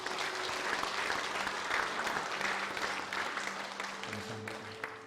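A church congregation applauds during a Sunday service in Gwangju, a sustained round of clapping from many hands that fades slightly toward the end.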